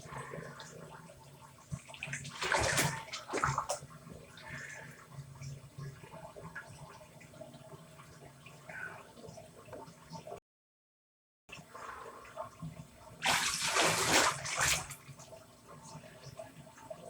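Water runs from a tap during handwashing, faint and splashy, with two louder gushes separated by a short silence.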